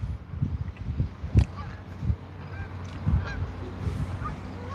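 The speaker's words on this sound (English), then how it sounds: "I hear geese, but I don't see any coming out to check up on us." Geese honk overhead in flight while a sailing boat sits still, scattered nasal calls rising and falling at moderate distance over low background noise, with no talking.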